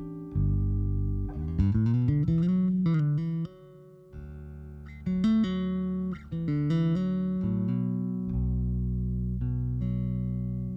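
Bass guitar played through a reverb pedal: bass notes and a short melodic run ring out with a lingering, spacious tail, each note sustaining and fading smoothly between phrases.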